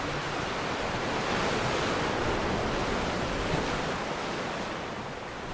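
Ocean waves crash and wash against a ship in a continuous, loud roar of broadband surf noise with some wind buffeting, fading slightly near the end.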